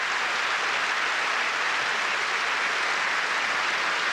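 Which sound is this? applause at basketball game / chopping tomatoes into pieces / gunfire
applause at basketball game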